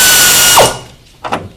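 A power tool tightens a strut mount nut on a car, whirring loudly and up close for about half a second before stopping, followed by a brief burst of ratcheting clicks.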